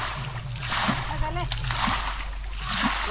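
Water splashes and sloshes in a small village pond as fish are caught, uneven bursts of splatter under voices nearby, including a child, and a steady low hum underneath.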